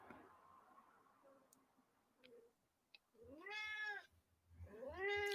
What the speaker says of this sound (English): I think I'm going to have to feed this cat